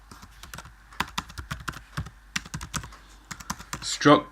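Typing code on a computer keyboard in an Xcode C++ session, a brisk run of sharp, close key clicks with a voice talking over them near the end.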